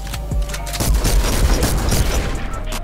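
Rapid gunfire in a shooter video game crackles in a dense, continuous burst with booming low thumps, loud and close, and no talking.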